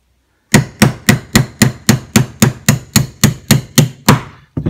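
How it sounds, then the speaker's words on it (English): A hammer strikes a 1/8 inch punch to drive the fire control unit pin out of a pistol frame during an SDVE spring kit installation, about a dozen sharp, evenly spaced metallic blows, close and loud. "You take your 1/8 inch punch and just drive that on out."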